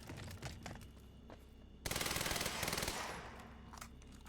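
Advanced SMG fire in the video game Quantum Break cracks out in a rapid automatic burst lasting about a second, preceded and followed by scattered single shots and quieter background noise.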